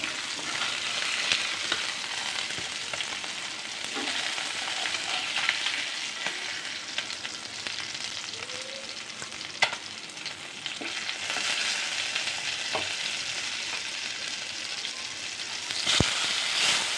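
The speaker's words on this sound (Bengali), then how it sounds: "ভাজা হয়ে গেছে, এখন তুলে নিব।" Fish frying in a pan gives a long, steady sizzle with a few brief clicks and crackles, fairly close and alone without any talk.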